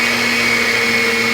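An electric mixer beats butter and sugar for brownie batter at full speed, giving a loud, steady motorised whir with a constant pitch that cuts off abruptly just before the end.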